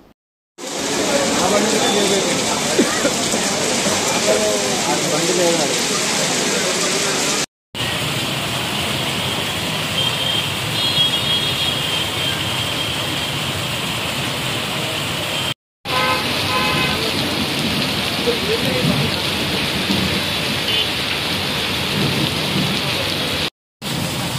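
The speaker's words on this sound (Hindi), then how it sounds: "चैतन्यपुरी, कोतापेट, चिकड़पल्ली, टैंक बंड, खैरताबाद में गरज और बिजली के साथ भारी बारिश हुई।" Heavy rain pours during a thunderstorm in Hyderabad, India, a loud constant hiss of downpour on surfaces with traffic and horns faintly mixed in, broken by short edits.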